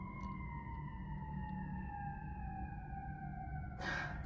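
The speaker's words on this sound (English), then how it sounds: "the sirens were so loud" Distant emergency vehicle sirens wail steadily in slowly falling tones over a low rumble in a Chicago apartment, with a brief rustle near the end.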